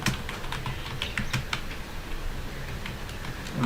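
A PHP artisan command for a Laravel project being typed on a computer keyboard, rapid close key clicks in an uneven run.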